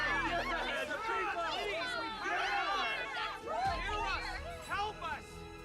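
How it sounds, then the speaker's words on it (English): Crowd of many voices chattering and murmuring at an assembly in the video game Honkai Star Rail, a dense, steady babble of overlapping speech heard throughout. "that woman knows how to stir up a crowd"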